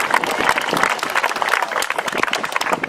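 Audience gives a round of applause for Arturo Jimenez at a public tribute event. The clapping is dense, close and sustained, with many individual hand claps blending together.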